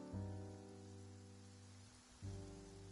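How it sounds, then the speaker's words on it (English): Rain falls in the Genshin Impact video game as a steady, even hiss of patter that fills the whole stretch, with low droning game tones underneath that fade briefly and then return. "It's raining."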